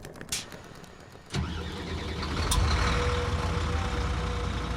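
A Pullman long-distance bus at the Las Galgos station, bound for Tapachula across the Mexican border, cranks its engine to life and settles into a steady, loud, close rumble with a brief hiss near the start, and no voices.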